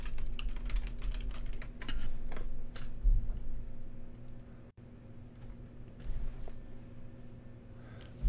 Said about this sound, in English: I'm going to type too.